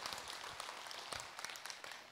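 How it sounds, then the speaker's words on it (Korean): Audience applause welcoming a questioner at a Buddhist dharma talk: soft, steady, fairly distant clapping from a crowd, a faint continuous patter with scattered louder claps. "박수로 맞으세요."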